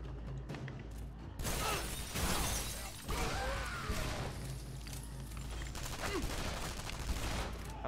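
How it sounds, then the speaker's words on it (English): Gunfire in the first-person shooter game Shadow Warrior, a dense, loud barrage of shots and crashing impacts sustained over several seconds, with no talk over it. "People are shooting at me."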